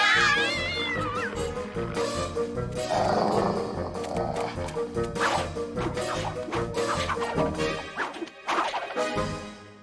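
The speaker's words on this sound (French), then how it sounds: "Le chat!" A cartoon cat meows from a French-dubbed animated series about a fairy family, heard over loud background music with crashing effects and cartoon voices.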